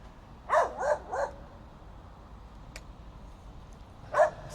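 A dog by an estuary barks three times in quick succession, pauses, then gives one more bark, moderately close against quiet outdoor background.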